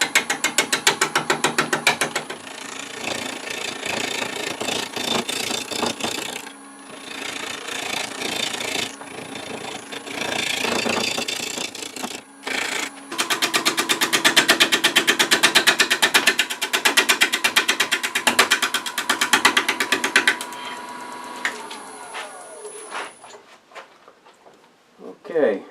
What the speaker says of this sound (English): just use my 5/8 inch gouge and just come in there and start getting rid of some of this wood